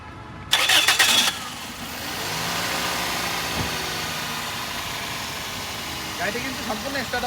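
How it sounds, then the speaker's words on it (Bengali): A 2001 Toyota X Corolla's 1500cc engine cranks with a loud, rapid starter burst, then catches and settles into a steady, smooth idle that hums on close by, with a voice speaking briefly near the end. "একটু স্টার্ট দিয়ে দেখাই দিচ্ছি।"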